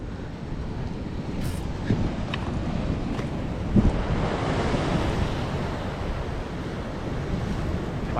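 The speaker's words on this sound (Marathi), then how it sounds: "लाटा बघा," Rough sea waves churning at the shore during monsoon rain, a loud continuous wash of surf with heavy wind buffeting the microphone and no clear voices.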